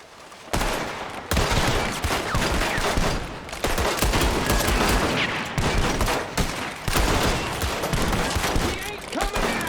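Red Dead Redemption 2 train robbery gunfire, a sustained loud fusillade of rapid overlapping shots and bursts with short pauses, close and harsh, with voices talking in between.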